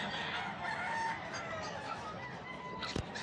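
A rooster crows from a short distance amid a busy, noisy outdoor pet market, with a brief sharp knock near the end.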